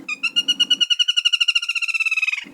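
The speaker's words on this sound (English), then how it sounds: "Flameback woodpecker." Black-rumped flameback woodpecker giving a loud, close rattling call, a rapid run of about twenty sharp notes that speeds slightly and then stops abruptly.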